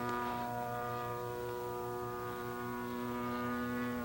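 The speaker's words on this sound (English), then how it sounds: "The sound of these things coming down the backside of the knife edge loop, particularly the large models, is really impressive." A large model aircraft diving down the backside of a knife-edge loop: a steady, loud droning engine tone with a strong buzzing harmonic whine that holds throughout.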